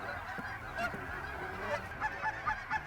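Faint, distant lesser geese honking over a pea field in scattered calls over a low background rumble, no voices.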